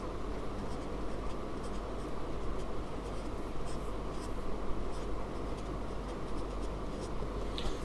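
Scratchy strokes of writing on a board during a maths lesson come steadily and close up, with a low background rumble and no clear speech.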